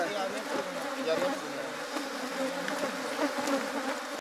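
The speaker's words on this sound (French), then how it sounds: "Voyez les abeilles?" Bees buzz around an organic farm in Benin, making a dense, continuous hum that stays steady and close throughout.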